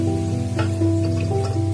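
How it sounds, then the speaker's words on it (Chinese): Chinese yam pieces frying in hot oil until golden and crisp, a steady close sizzle with faint popping bubbles throughout, alone with no voices over it. "把它炸至金黄酥脆才特别的好吃。"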